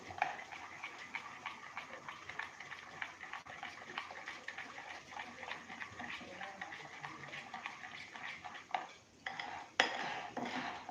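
Dhokla batter made from soaked dal and rice is stirred with lemon juice and Eno, giving a quick, steady run of soft tapping and scraping against the bowl, with a few louder clinks toward the end and no talking.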